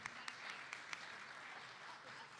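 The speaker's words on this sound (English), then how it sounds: "Give a huge round of applause for Pedro," A large audience at a conversation event claps steadily in a dense, even wash of applause, with a few sharper individual claps standing out, heard at a distance and fairly faint.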